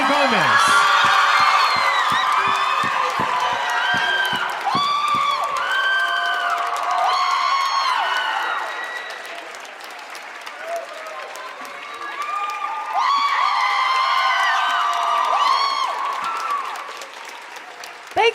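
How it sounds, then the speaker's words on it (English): An audience greets Selena Gomez's entrance with sustained applause, cheering and whoops, loud and crowded, dipping briefly in the middle before swelling again, with a voice speaking over it. "It's a different kind of applause, I think."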